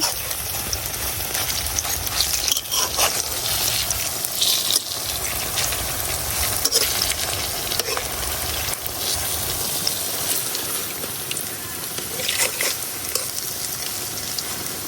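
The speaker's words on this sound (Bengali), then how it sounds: "এখন আরেক সাইড উলাই দিতেছি একটু কড়া করে বাজা নেওয়া লাগবো" Raw papaya fritters (piyaju) fry in hot oil with a dense, continuous crackling sizzle, close and loud, broken by occasional stirring and turning sounds.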